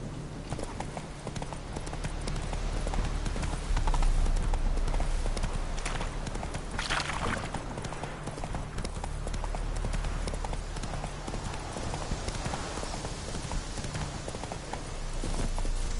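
A horse gallops in The Witcher 3 on PS4, its hooves pounding in a fast, steady clip-clop under a constant low rumble of game ambience for about sixteen seconds.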